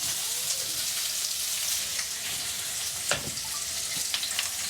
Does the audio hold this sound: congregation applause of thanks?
no